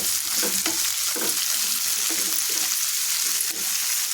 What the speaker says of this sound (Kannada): ಟೊಮೆಟೊ ಸ್ವಲ್ಪ ಚಂದ ಇದ್ರದಾಗ ಎಲ್ಲ ಕೆಳಗನ್ನೆಲ್ಲ ಮಾಡಬೇಕು. ಸ್ವಲ್ಪ ಚೆನ್ನಾಗಿಂದ ಫ್ರೈ ಆಗಬೇಕು.